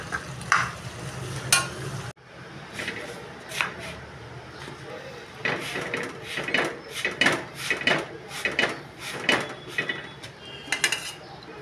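A vegetable bhaji cooking in a pan as it is stirred: a soft sizzle with repeated scraping and clinking strokes of a spoon against the pan, close and fairly busy in rhythm.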